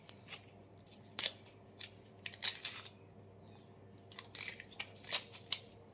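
Onion being cut in a home kitchen, a quick series of crisp, sharp slicing snips in irregular bursts, close and fairly quiet, with no talking.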